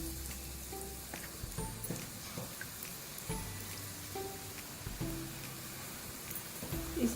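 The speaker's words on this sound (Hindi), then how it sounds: "ऑयल हमारा गर्म हो चुका है। एक छोटा सा मैंने चम्मच लिया है, उसकी मदद से पकौड़े शामिल करते जाएंगे।" Pakoras sizzle in hot oil, a faint, even crackle like light rain, with soft occasional clinks and no talk over it.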